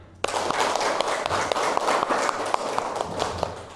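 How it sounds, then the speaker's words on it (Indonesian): Classroom of students clapping together at the end of a lesson, a dense burst of claps that starts abruptly and carries on steadily at close range, with faint voices underneath. "sekali lagi tepuk tangan"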